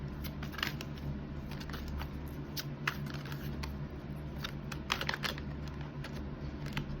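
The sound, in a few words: shuffling tarot cards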